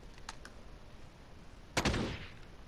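Gunfire in Call of Duty Warzone, a couple of faint distant pops followed by one loud close shot with a rumbling tail, no voices over it.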